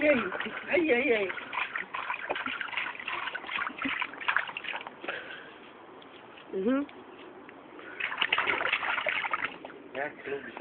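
A bird splashing and sloshing water in a basin, with repeated small splashes and trickles heard close up while people talk over it.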